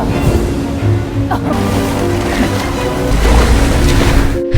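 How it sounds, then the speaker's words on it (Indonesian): Large ocean waves crash over a small handmade raft on the open sea, a loud continuous wash of surf and rushing water with wind, close and unbroken. "rakit buatan Adam langsung hancur setelah dihajar ombak yang besar"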